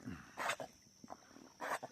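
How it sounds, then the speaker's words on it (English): A dog swimming out after fishing bait gives a few faint, distant barks and yips, spaced apart over quiet outdoor background. "I got 1 dog swimming out there trying to get my bait."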